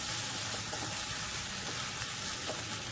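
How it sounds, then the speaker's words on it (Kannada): Spiced masala frying in a pan for a squid pepper roast, a steady dense sizzle with faint crackles running throughout, close and moderately loud with no voices. "2-3 ನಿಮಿಷ ಚೆನ್ನಾಗಿ ಫ್ರೈ ಮಾಡಬೇಕು"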